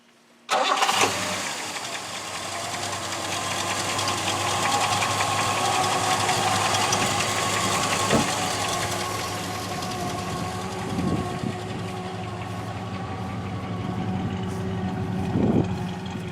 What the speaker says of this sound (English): Can we hear it start up?